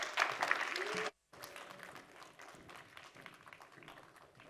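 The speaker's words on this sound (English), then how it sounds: "Let's give a nice round of applause for Miss Asia USA Mekyla Li" Audience applause greeting Miss Asia USA as she comes up to speak at a talks event, a brief cut in the middle, then lighter scattered clapping continuing at a low level.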